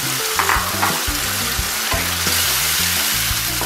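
Small puti fish fry with star fruit in a pan, a loud, continuous sizzle with crackling spatters from start to finish and no talking.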